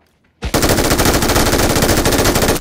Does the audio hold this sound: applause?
no